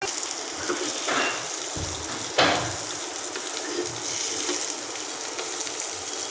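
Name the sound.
jackfruit seeds and gourd tips frying in a pan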